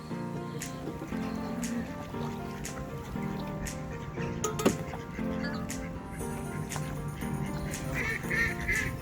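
Ducks being fed leftover bread quack repeatedly in a steady, nasal chorus near and far, with scattered taps and thumps throughout.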